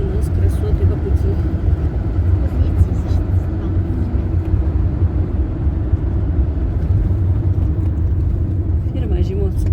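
A car driving on the road, heard from inside as a steady low engine and road rumble that continues without break, with people talking over it.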